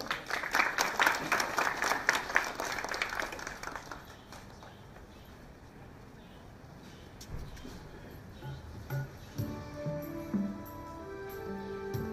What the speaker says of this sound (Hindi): हम उसका जोरदार तालियों से प्रोत्साहन करें